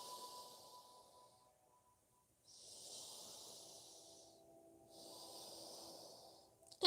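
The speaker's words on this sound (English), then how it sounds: "Breathing through your nose." Slow, steady breathing through the nose during a yoga pose, with two or three long airy breaths, each a soft hiss, close and quiet over a faint tonal background.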